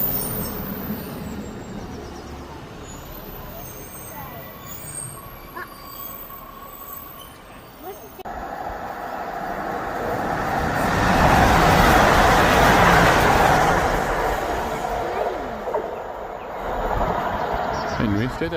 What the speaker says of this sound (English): The red train is coming any second now.